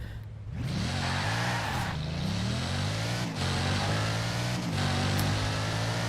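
A Bugatti Divo in Forza Horizon 4 accelerating hard on a highway, its engine note climbing through several gears with brief dips at each shift, loud and continuous close up.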